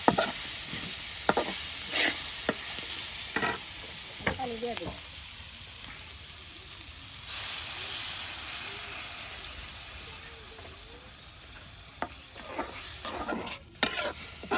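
Onion, chillies, turmeric and chilli powder fry in oil with a strong, steady hiss and crackle close by, broken by scraping stirs of a spatula, while a voice talks briefly in the middle.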